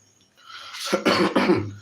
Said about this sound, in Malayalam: ചുമ പിടിച്ചു